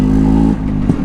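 A Jawa/Yezdi motorcycle's exhaust burbles in a loud, steady low-pitched note close by, with a brief change and clatter partway through; no talking.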